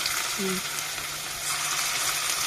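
Fritters made with Malabar spinach leaves fry in hot oil with a steady, close hiss and crackle that holds evenly throughout, and a brief tonal blip sounds near the start.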